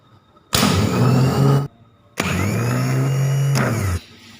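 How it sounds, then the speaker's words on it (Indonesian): Car starter motor on a no-load bench test, pinion spinning freely: two sustained whirring runs of about a second and a half each, loud and close, with a short gap between and no talk. "Pastinya nanti motor starter akan berputar."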